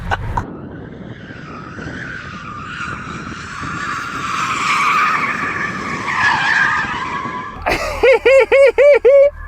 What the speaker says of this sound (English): So go on, Juan, warm up the tyres on your Model 3.